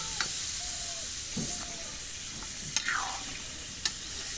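Pumpkin pieces hit hot spiced curry in a Bengali home kitchen and set off a steady loud sizzle and hiss, broken by a few stirring scrapes and clinks and with no voices.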